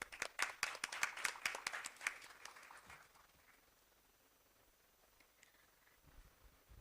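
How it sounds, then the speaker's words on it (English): A brief burst of applause at a nursing education programme on stroke care, fairly faint and dense for about two seconds, quickly thinning to scattered claps and then quiet. "Let's appreciate ma'am with a round of applause."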